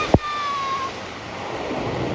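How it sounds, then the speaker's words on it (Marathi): Water rushes down a waterfall at Andarban dam in a steady, broad roar, opened by a short thump and a passing whistle-like tone. "हो धबधबा."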